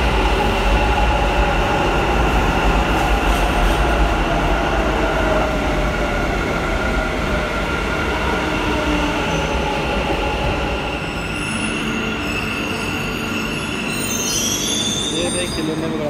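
A metro train at a station in Bangalore rolls in with steady, loud wheel and rail noise and high squealing from the wheels, continuous throughout and easing slightly near the end.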